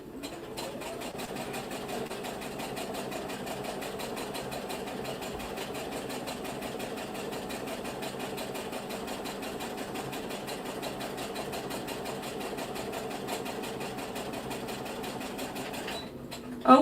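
A sewing machine stitches fabric in a long, steady, even whir at close range, running continuously with a slight stop and clunk at the very end.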